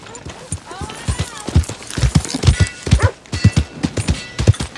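Hooves of a sooty buckskin Dutch Warmblood clip-clop steadily on a trail in Red Dead Redemption 2, with a whinny early on and voices talking over the rhythmic footfalls.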